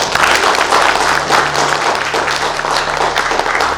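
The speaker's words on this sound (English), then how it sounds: "A round of applause for people who made this happen" An audience applauds at a corporate employee wellness talk, steady sustained clapping from a crowd, loud and dense for the whole stretch with no voices over it.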